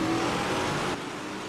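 A big block modified dirt race car engine in the World of Outlaws dirt racing video game roars loudly and steadily, then eases back slightly for the final half second.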